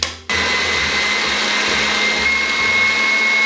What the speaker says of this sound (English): And now I'm just going to whisk this up until the bowl no longer feels warm or it's not warm to the touch.